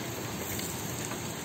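Chicken sizzles on an outdoor barbecue grill in Miami, giving a steady, soft, crackling hiss with no pauses.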